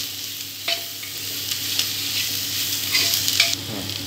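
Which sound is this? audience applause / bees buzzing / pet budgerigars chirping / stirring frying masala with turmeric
stirring frying masala with turmeric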